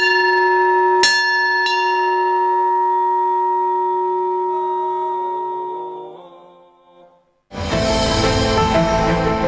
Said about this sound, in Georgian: ზარს კი ისევ თავად დარეკავს.